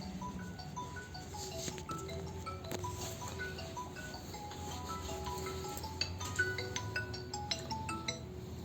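A mobile phone ringtone plays a repeating electronic melody of tonal beeps indoors over a steady background hum, continuing the whole time with no speech.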